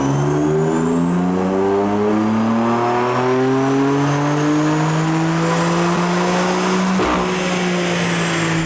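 A tuned BMW F82 M4 running JB4 Map 5 on E30 fuel during a power run: a loud, close engine roar climbing steadily in pitch through the revs, a brief break partway through, then continuing to rise with no voices.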